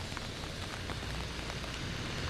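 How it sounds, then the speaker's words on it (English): Rain falls steadily on a wet day in Canada, a faint, continuous patter of drops striking surfaces, with no voices and no other sounds. "It is 4 p.m. on this very rainy Canadian day for me."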